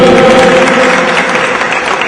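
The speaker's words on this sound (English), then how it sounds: "Can you please give one more round of applause," Audience applause at a Guinean flag-raising ceremony at Newark City Hall, a loud, dense, continuous wash of many clapping hands filling the space, steady throughout with no pauses.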